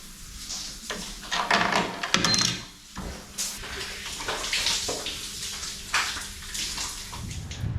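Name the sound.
shower water running at campsite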